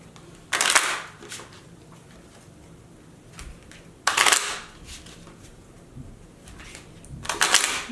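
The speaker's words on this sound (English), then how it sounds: "I know the shuffling can be kind of a higher pitched sound" Tarot cards shuffled by hand in three separate bursts of crisp, riffling card noise, each lasting under a second, with quiet pauses between and no talking.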